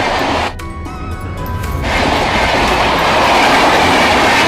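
A train rolls along railway tracks nearby, with a steady loud rumble and clickety-clack of wheels that swells and holds throughout, with no clear talk over it.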